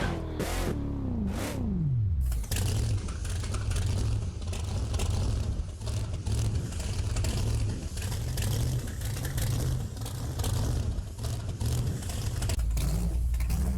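A Black Stallion monster truck engine in BeamNG Drive, idling and then revving in a loud, continuous rumble at a beach 4x4 jamboree, with a brief falling whine at the start before the engine noise settles into a steady roar.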